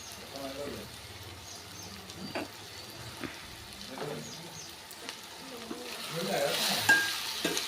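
Ridge gourd curry with garam masala and chilli powder is mixed in a pan, soft scraping strokes and light sizzle at a steady pace, faint speech-like murmurs underneath and a brighter hiss toward the end.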